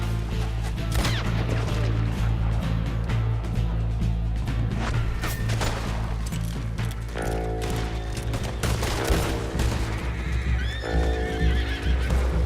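Horses whinny and hooves clatter amid loud, dense Red Dead Redemption 2 game action with music and bursts of gunfire throughout.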